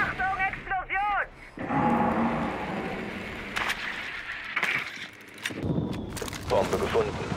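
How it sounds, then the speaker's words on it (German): A booming explosion in Rainbow Six Siege rumbles and crackles over several seconds, mixed with bursts of other game noise and a voice early on. "Achtung, Explosion!"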